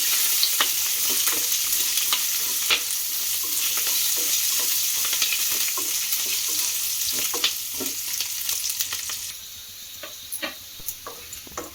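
Cut vegetables for a vegetable kurma fry in oil with a constant hissing sizzle, occasional clicks and scrapes of a spatula stirring the pan; steady and close, no talking.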